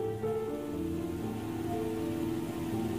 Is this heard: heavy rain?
yes